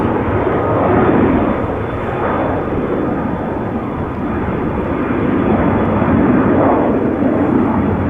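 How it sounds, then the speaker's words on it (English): Boeing 747-400 freighter departing Amsterdam Schiphol for Luxembourg, a loud continuous jet-engine roar with slow surges in intensity, no talk. "going to Luxembourg. Boeing 747-400. Freighter"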